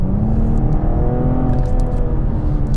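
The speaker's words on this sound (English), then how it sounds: "that you get a hint of the engine under the bonnet" A BMW M440i engine hums and revs steadily under acceleration, a continuous low rumble heard from inside the cabin.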